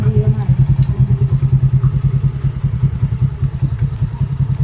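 A motorcycle engine runs steadily close by as a woman climbs onto the bike, giving a continuous low throbbing rumble with a few light clatters and bumps.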